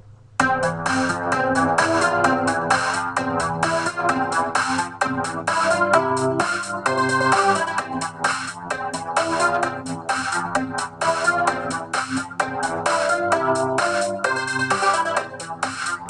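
FL Studio playlist looping a melody, drums and bass together, a dense, steady electronic mix with bright repeating synth notes and regular beats playing continuously at even loudness.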